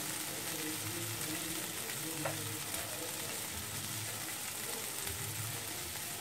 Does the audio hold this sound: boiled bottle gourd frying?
yes